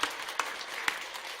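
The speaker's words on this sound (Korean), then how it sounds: "자, 우리 힘내시라고 박수 한번 쳐주시기 바랍니다." A church congregation applauds during a worship service, a soft, steady wash of clapping with a few sharper claps standing out, fairly faint and with no talk over it.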